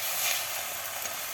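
Leafy greens stir-fried in a hot pan with a constant, bright sizzle and crackle, close and fairly loud, with no talk.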